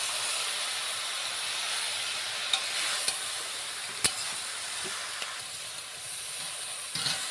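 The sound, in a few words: stirring Malabar spinach (pui shak) cooking in a pan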